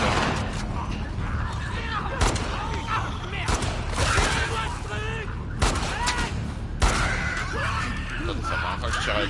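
Gunfire in the video game The Last of Us Part II, with several sharp shots and bursts heard over a constant loud game soundscape.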